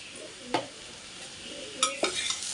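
Cabbage and moong dal being stir-fried in a pan with spice powder, a soft continuous sizzle broken by a few sharp scraping stirs of a spoon against the pan, close and fairly quiet, with no voices.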